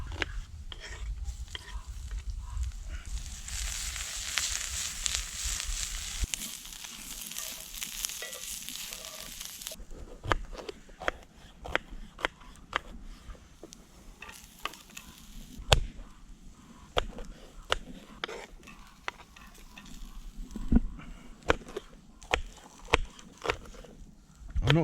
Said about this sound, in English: you get some onions frying